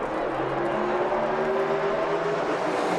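A NASCAR field roars together at a restart at Las Vegas Motor Speedway, a dense, steady wall of engine noise with rising pitched tones as the cars accelerate, loud and continuous without speech.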